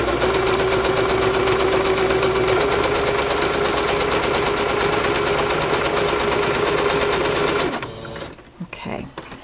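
A sewing machine stitches a fabric edge onto card for a fabric-covered journal cover, whirring in a steady close run for about eight seconds before stopping, followed by a few brief handling sounds.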